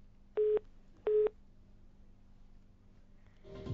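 Telephone busy signal on a failed phone line connection: two short, identical electronic tones about half a second apart over a faint hum, followed by a brief burst of noise at the end.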